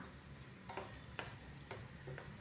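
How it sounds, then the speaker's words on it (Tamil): Peanuts roasting in oil with garlic over a medium flame give a faint, steady sizzle, broken by a few sharp ticks and scrapes from stirring, with no voices. "ஏற்கனவே வறுத்து வச்சுருக்க வேர்க்கடலையை இதோடு சேர்த்து ஒரு ரெண்டு நிமிஷம் போல் இந்த எண்ணெயில் மீடியம் ஃப்ளேமில் வச்சு நல்லா பொறுமையாக வறுத்து எடுத்துக்கலாம்"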